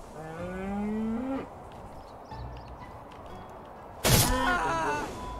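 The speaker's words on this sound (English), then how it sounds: "Is that a purple cow?" A purple cow in the Minecraft DawnCraft modpack lets out two long, close moos, one at the start and a louder one near the end, with quiet between them.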